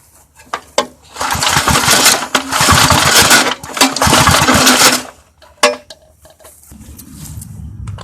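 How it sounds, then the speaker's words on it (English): An old Southland push lawn mower with an empty fuel tank is pull-started to check for spark, giving loud, close bursts of rapid cranking and sputtering separated by clunks and short pauses. "Okay, I'm gonna test this Southland mower here,"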